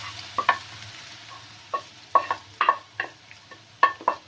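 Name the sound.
stirring and frying gajar halwa ingredients in ghee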